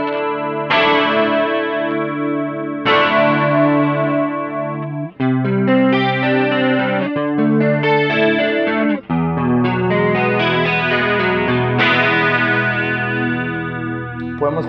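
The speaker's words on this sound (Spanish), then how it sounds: "me va a sonar a un chorus clásico que nosotros conocemos" Electric guitar through a Warlus Audio Julia analog chorus pedal set to a slow triangle wave with deep depth and plenty of delay, a sequence of strummed chords and arpeggiated notes shimmering with a classic, gently swirling chorus.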